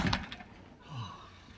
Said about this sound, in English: I'm just closing the door.